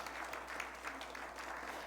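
An audience at a church lay gathering's opening worship service claps together in steady, continuous applause, fairly distant and soft, lasting under two seconds.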